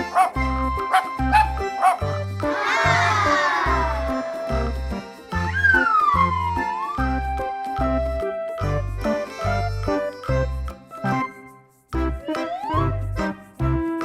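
A playful dog bark sound effect from a toy alphabet train repeats as a short series of yips over a steady, cheerful electronic children's melody.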